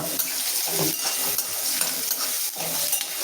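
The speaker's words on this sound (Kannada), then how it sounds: "ಸ್ವಲ್ಪ ಕರಿಬೇವು ಆಮೇಲೆ ಈರುಳ್ಳಿ ಹಾಕೋಬೇಕು ಚೆನ್ನಾಗಿ ಫ್ರೈ ಮಾಡ್ಕೋಕತ್ತಾರ" Onions and curry leaves fry in hot oil for a Karnataka-style Junaka, a steady close sizzle broken by scraping stirs and a few clinks of the pan, with no talking.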